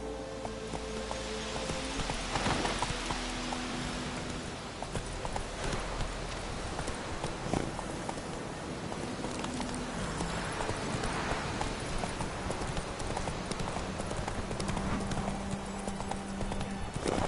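Horse hooves clip-clop in a steady, close rhythm while riding in a video game, with light rain-like patter in the background and little talk.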